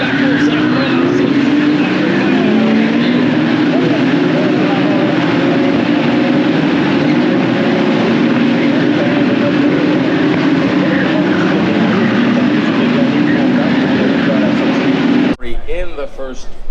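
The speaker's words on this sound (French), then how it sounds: "the green flag is waved, and we are racing again in Montreal in the Ferrari Challenge" Ferrari Challenge race cars at Montreal accelerating after a green-flag restart, a loud continuous engine drone with rising and shifting pitch and commentary over it, ending in an abrupt cut.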